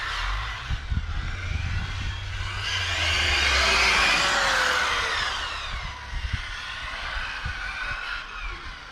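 A Hobao Hyper VS RC buggy accelerates down a straight on an outdoor track, its motor whine swelling to a loud peak mid-pass and then fading. Scattered crunches and knocks of the surface sit underneath, with no talking.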